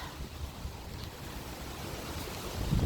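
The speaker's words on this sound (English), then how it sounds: "it's very windy now this evening" Steady, rushing wind noise in a garden in the evening, with low rumbling gusts that swell louder toward the end, no voices.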